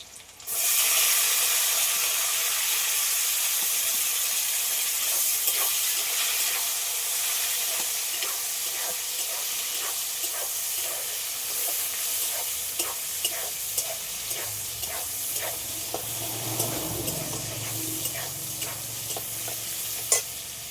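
Chopped tomato fries in a hot pan with a loud, continuous sizzle and hiss over about twenty seconds, punctuated by occasional clicks and scrapes of stirring, close up with no talk.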